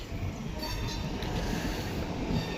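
A train passes on a journey toward Kacheguda, Hyderabad, its steady close rumble blending with wheel squeal and a faint clatter, with no voices over it.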